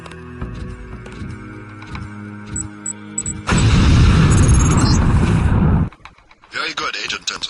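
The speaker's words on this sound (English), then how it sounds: "the lamp will fall to the ground and detonate" A LAM grenade detonates in the video game Deus Ex: a loud, dense roaring blast that lasts about two seconds and then cuts off sharply. Quieter tonal game sounds play before it, and softer noises follow.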